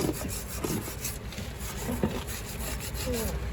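Rust is scraped off the rear spring seat on the rusty undercarriage of a VW Sharan 7M0, with quick, repeated rasping strokes heard up close and steadily.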